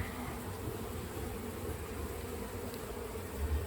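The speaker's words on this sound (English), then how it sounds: "there'll be some bees in here, but really not very many" Bees buzz inside a shed during a removal, a dense, steady, close hum of many insects droning without pause.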